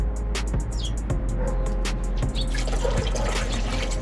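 Epoxy thinner being poured for mixing floor paint makes a light trickling, splashing liquid sound with small drips and clinks, fairly close and steady.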